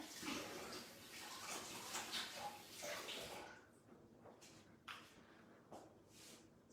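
Running water from a tap splashes as hands are washed at a kitchen sink, a steady close wash that breaks into shorter splashes and rubbing partway through.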